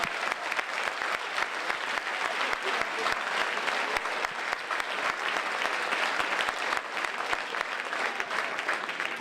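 An audience claps for Professor Boileau at a meeting, a steady, even patter of many hands sustained throughout at moderate loudness without voices over it.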